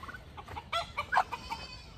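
Chickens on a farm cluck in a short, quiet burst of several clipped calls, heard near and alone.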